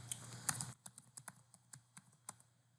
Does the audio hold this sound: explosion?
no